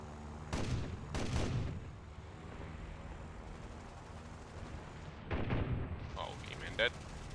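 Aircraft cannon fire in the War Thunder video game, two short bursts of heavy booming shots early on and another burst later, with faint game noise between and a brief click near the end.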